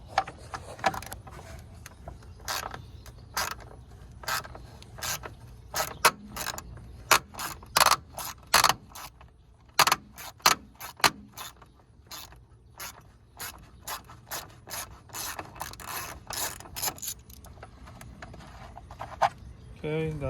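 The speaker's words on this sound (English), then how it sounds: "you're going to want a T30 to remove this one screw off" A T30 Torx driver clicks and ratchets while loosening the single screw on a Mercedes Sprinter coolant reservoir, a string of sharp, close, irregular ticks over faint background.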